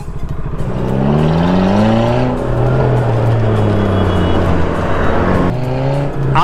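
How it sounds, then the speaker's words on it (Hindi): A car in a market street in Karnal Sector 13 revs its engine loudly and close, with rising and falling pitch across several throttle blips in a row. "ये कार में पहली बार मैं सुन रहा हूँ इन भाई की कार की आवाज़।"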